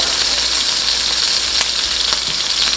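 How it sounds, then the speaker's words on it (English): Freshly ground ginger paste fries in a pan for coconut shrimp fried rice, giving a loud, steady hissing sizzle with occasional sharper crackles, close by and without talk. "So that is going to go in here to fry, introduce some flavor and fragrance."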